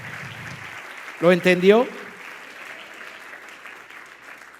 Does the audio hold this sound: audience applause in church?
yes